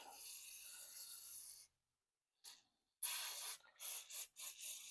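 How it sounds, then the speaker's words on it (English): Uni foam filter cleaner sprays onto a foam air filter in bursts, a long hissing spray, a pause, then several short spurts up close, with no talking. "then I'll respray it on the bad parts."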